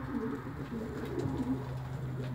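Pigeons cooing close by, a soft low murmuring burble that carries on steadily throughout with no talking.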